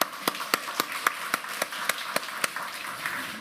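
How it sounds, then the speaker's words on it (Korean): A church congregation at a Sunday worship service claps in unison: a dozen crisp, evenly spaced claps at a steady rhythm, mid-distance and moderately loud, with no talking over them. "우리 하나님 앞에 영광의 박수 한번 합시다"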